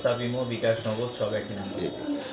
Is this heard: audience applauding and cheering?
no